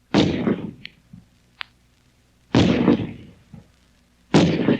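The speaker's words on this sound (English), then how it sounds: "Here's the sound of a real rifle being fired." A .30-06 gas-operated M1 rifle fires three loud, booming shots spaced roughly two seconds apart, each with a sharp onset and a decaying rumble, with a few faint clicks between them.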